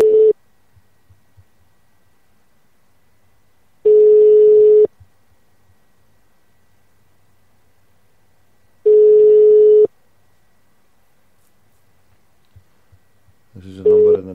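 Phone line tones to a number in the Netherlands: three long, steady beeps of about a second each, spaced several seconds apart over near silence, with a burst of busier line sound at the very end.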